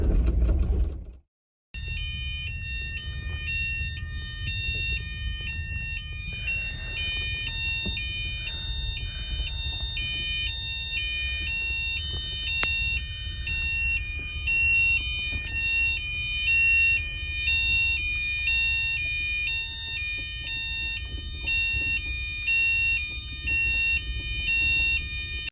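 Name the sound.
fire alarm going off on overnight sleeper train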